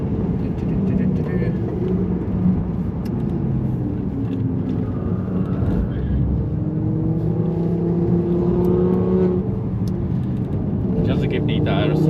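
A 2024 Tesla Model 3 Performance fitted with a big brake kit accelerates on the Nürburgring, giving a steady, smooth electric whir and road roar from inside the cabin with no breaks, while someone speaks over it.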